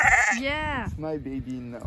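A young lamb bleats loudly and close by, a wavering drawn-out cry followed by shorter quavering bleats, with a person speaking over it.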